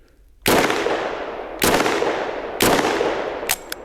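Three sharp, loud bursts from a 9x19 mm Micro Uzi submachine gun ring out about a second apart, each trailing off in echo, followed by a couple of quick faint clicks.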